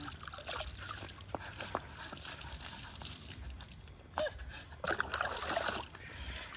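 Water splashing and trickling while a dog gets a bath at home, with scattered splashes and drips of moderate loudness under a steady wet background.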